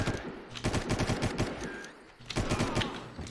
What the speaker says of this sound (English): this guy is really shooting at me